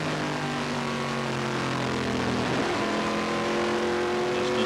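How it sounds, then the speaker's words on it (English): A stock race car in a Hooters Pro Cup Series race at Peach State Speedway, its engine droning loud and close as it picks up throttle, the pitch rising and shifting mid-pass amid the ongoing roar of racing. "Listening to him pick up on the throttle"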